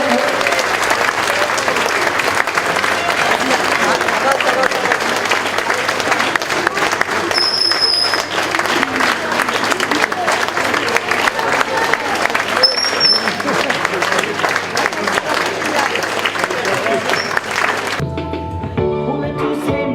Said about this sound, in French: on peut applaudir un petit peu